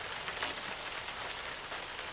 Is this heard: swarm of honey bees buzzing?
no